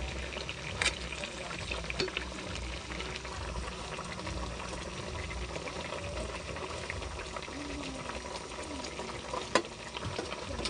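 Vegetables with chili frying in a pan, a steady broadband sizzle and bubbling that runs unbroken, close and even, with a few faint clinks of a utensil.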